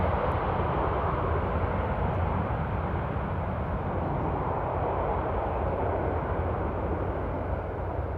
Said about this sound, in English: I don't know what it is about the A330s, but when they pass they're loud